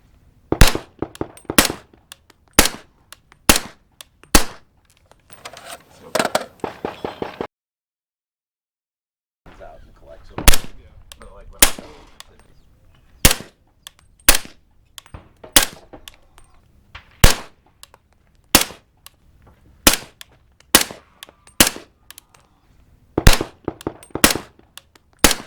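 Suppressed 300 Blackout subsonic rounds fired through an Exigent Defense Pointman9 and Otter Creek Labs Universe-36 suppressor with a vented end cap: loud, sharp, evenly spaced shots in two strings separated by a short silent pause.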